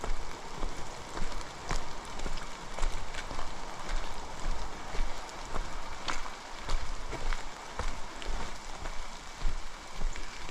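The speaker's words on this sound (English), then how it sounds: "The rain is tapering off." Steady rain falls on the Appalachian Trail, a dense continuous patter with scattered sharper drop hits, close and moderately loud with no voices, the wash holding evenly throughout.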